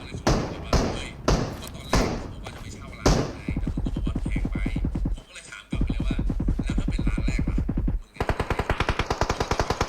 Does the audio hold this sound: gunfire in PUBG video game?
yes